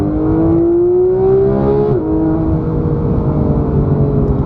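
A Porsche 991.1 GT3's 3.8-litre flat-six revs hard toward its 9,000 RPM redline, a loud, close, rising shriek with a brief dip and shift before holding a high, steady wail.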